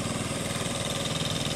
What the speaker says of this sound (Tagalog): kasi Kubota RK yung kanyang makina